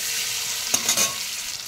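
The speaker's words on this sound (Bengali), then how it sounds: "পনিরটা হালকা ভেজে নেব।" Paneer fries lightly in a pan with a steady, close sizzle, broken by a couple of short scraping stirs near the middle; no one speaks.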